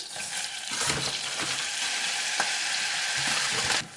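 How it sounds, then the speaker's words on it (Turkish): Flour toasting in melted butter for a béchamel sauce, a dense continuous sizzle with repeated scraping stir strokes, close and loud throughout, then cutting off just before the end. "Unumuzu karıştırarak hafif kavuruyoruz."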